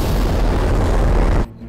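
Missile launch in a dubbed Bhojpuri action film: a loud, sustained roaring blast that fills the clip for about a second and a half, then cuts off sharply into a quieter low rumble.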